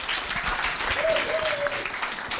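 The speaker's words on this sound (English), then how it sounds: "Round of applause for our panelists." An audience at an agricultural career fair claps for a panel of speakers, a fairly quiet, brief burst of applause with a faint voice or tone rising briefly in the middle.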